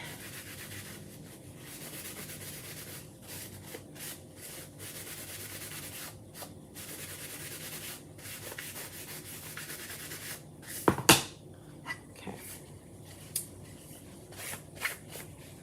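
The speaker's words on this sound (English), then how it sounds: "Getting really crazy with the buffing" Steady soft rubbing and buffing on craft minis runs throughout, broken by brief pauses, with a sharper scrape or clack near the middle and a few light knocks toward the end.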